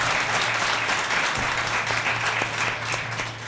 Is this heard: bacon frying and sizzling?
no